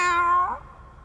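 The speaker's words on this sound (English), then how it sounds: "Only one type of person would keep a cat like you." A cat in an animated series gives one clear, close meow that rises and then fades, heard alone without talk.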